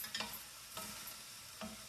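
Soft sizzling with a few scraping stirs of vegetables stir-frying in a pan without oil, brief bursts over a steady low hiss.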